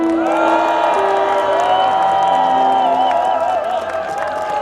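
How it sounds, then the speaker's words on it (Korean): A large crowd cheers, whoops and applauds loudly and steadily throughout, with shouting voices layered over continuous clapping at a political prayer rally in Sejong, South Korea. "황교안 대표님에게 큰 박수 한번 드리시죠"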